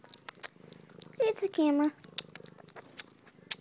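Pet cats purr close up with a soft, continuous rumble, while a person talks to them in bursts over the purring.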